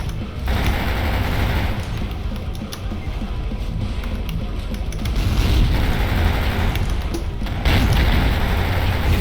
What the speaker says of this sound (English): This guy's using a rocket launcher.